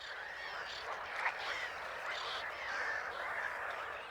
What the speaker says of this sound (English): The toad's mating cries have given them away.